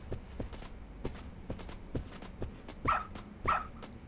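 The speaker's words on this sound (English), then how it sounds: "We're gonna get the dog in the office?" A dog in the video game Lost Judgment snuffling and sniffing in quick soft bursts, then letting out two short sharp barks near the end, close and clear.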